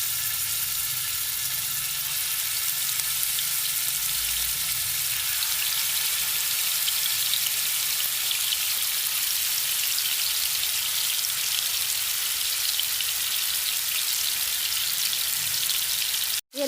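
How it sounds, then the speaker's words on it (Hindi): Seekh kababs fry in hot oil on a tawa over medium flame, giving a steady, dense crackling sizzle that holds evenly throughout, close and fairly loud. "अब इसको हम फ्राई करते हैं मीडियम फ्लेम पर"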